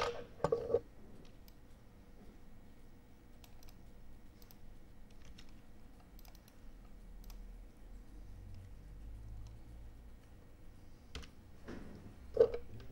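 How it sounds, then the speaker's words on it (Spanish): Sparse, faint clicks of a computer keyboard and mouse sound during copying and pasting in a quiet room, spaced irregularly over a low hum, with a couple of sharper taps at the start and end and no talking. "Como no puedo usar bien el teclado, voy a copiar y pegar."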